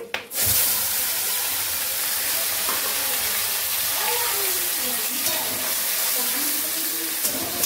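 Spice paste (masala) fries in hot oil with a steady, close hiss and sizzle that starts abruptly and holds at an even level, with faint kitchen noises and a voice briefly under it.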